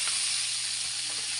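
Onion and tomato sauté in a hot pan with a bright, continuous sizzle heard close and alone, and faint stirring taps underneath.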